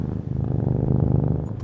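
A video game cat named Biscuit purrs while being petted, a close, steady rumbling purr with a rhythmic pulse, heard alone.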